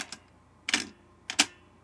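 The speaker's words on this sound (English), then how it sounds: "We got a little typewriter on our hands." A Pfaff 955 sewing machine clattering like a typewriter: three sharp, isolated mechanical bursts spaced about half a second apart, close and fairly loud against a quiet background.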